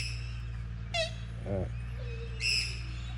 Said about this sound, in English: All sorts of strange sounds coming from the ducks and the birds around here.